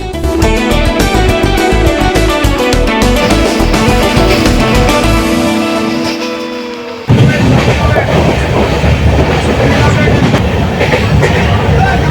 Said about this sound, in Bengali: ট্রেন ছুটে চলেছে কোলাঘাট ব্রিজের উপর দিয়ে